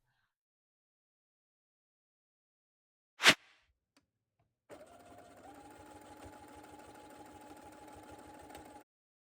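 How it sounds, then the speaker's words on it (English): A sewing machine runs in one steady continuous burst, stitching appliqué gingerbread pillow squares together, heard close after a single sharp clack and a brief silence. "I chose to machine sew them."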